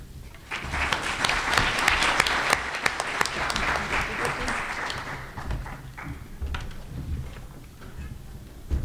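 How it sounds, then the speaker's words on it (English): An academic conference audience applauds the presenters with a swell of clapping that peaks early and then thins into scattered claps, followed by a few isolated claps near the end. "Let's give all the presenters one more round of applause before they switch."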